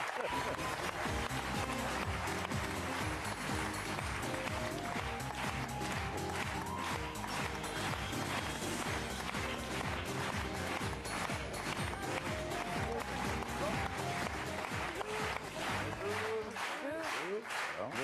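Studio audience applause on a French talk show greeting Virginie Efira and Jean Dujardin, a dense, steady clapping wash mixed with music and voices throughout.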